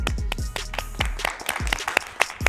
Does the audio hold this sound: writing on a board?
no